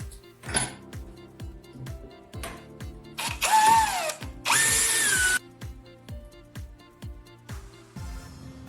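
A power drill bores a hole in the lock of a cable tie clamped in a vise. Two loud, sustained bursts of whining drilling come up close, among a steady run of rhythmic mechanical ticking.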